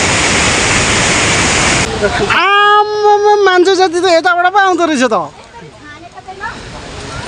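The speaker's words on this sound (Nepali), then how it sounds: "यो चाहिँ अलिक तलको सुन्दरी जल भन्दा अलिक तलको झरना हो।" Okhreni waterfall near Sundarijal pours in a steady broad rush for the first couple of seconds, then sinks low beneath loud nearby talking and a whining tonal sound, returning faintly toward the end.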